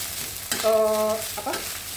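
Nasi goreng stir-fried over high heat on a home stove as sweet soy sauce goes in, a loud close sizzle with a brief tonal scrape of the spatula in the wok, no talking.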